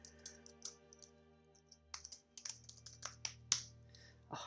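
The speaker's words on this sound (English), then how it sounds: "Oh, typing under pressure, hey." Rapid, irregular keystrokes on a computer keyboard while coding, a close series of crisp clicks with brief pauses over a low steady hum.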